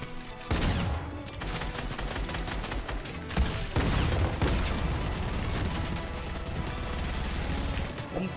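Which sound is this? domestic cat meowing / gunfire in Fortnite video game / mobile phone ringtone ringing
gunfire in Fortnite video game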